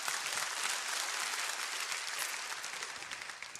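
Congregation applauding during a church sermon, a dense, steady wash of many hands clapping that fills the space and tapers slightly toward the end.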